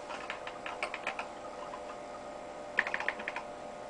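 Keys clatter on a Macintosh 512KE/Plus keyboard in two short bursts of close, crisp typing, with a quiet pause between them and no talk.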